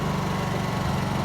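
A Honda EU2200i generator idles while running on a 1 lb propane bottle, a steady close engine hum with an even buzzing rhythm and no talk.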